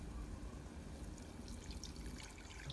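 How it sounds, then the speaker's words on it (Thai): Water poured over vegetables being washed in a strainer, a quiet, steady trickle and splash at low volume with no speech. "ใส่น้ำเข้าไปนะครับ เวลาล้างผักนะครับ"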